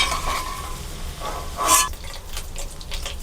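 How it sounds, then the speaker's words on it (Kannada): Cinnamon, cumin and bay leaf dropped into hot oil, a soft steady sizzle with a brief louder hiss and stirring clatter midway, close and alone. "ಈಗ ಕಾದಿರೋ ಎಣ್ಣೆಗೆ ನಾವು ಒಗ್ಗರಣೆಗೆ ಅಂತ ತೆಗೆದಿಟ್ಕೊಂಡಿರುವಂಥ ಚಕ್ಕೆ, ಜೀರಿಗೆ, ಪಲಾವ್ ಎಲೆ ಇದನ್ನೆಲ್ಲ ಹಾಕ್ಕೊಂಡು ಸ್ವಲ್ಪ ಹುರ್ಕೋಬೇಕು."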